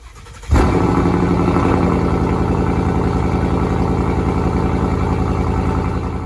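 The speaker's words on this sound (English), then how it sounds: "there's the sound of my lovely Mustang when it had its loud exhaust fitted" After a moment of quiet, a Ford Mustang engine fires up and settles into a loud, deep, rumbling idle from a throaty aftermarket loud exhaust, held steady close by.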